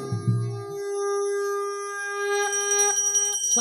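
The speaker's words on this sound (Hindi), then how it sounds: "शंखध्वनि" A conch shell is blown during a village stage play in Odisha as the king and minister enter: one long, steady, hollow horn-like tone that holds and wavers slightly near the end.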